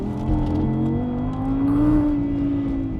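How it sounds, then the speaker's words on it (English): An Audi R8 V10 Plus Spyder engine rumbles with a deep, steady drone, revs rising slightly and holding, loud and close with no talking. "it has a V10 that is incredibly loud"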